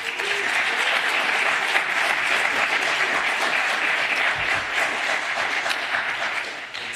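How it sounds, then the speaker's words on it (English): A crowd at a hackathon event claps for the winning team, a continuous wash of applause that holds steady and fairly loud throughout before dipping at the very end. "So please give them a huge round of applause."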